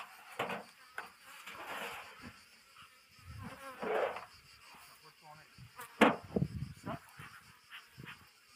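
Black honey bees buzz around an open hive, near and far, in intermittent swelling bursts, with a few faint voices in the background.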